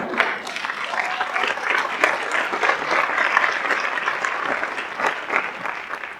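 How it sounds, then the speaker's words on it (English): Audience at a school staff recognition ceremony applauds, a sustained, dense round of clapping from a crowd that holds steady throughout. "You can applaud away."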